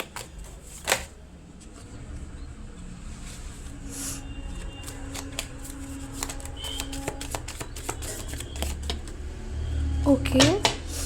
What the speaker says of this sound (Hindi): So let's shuffle the cards.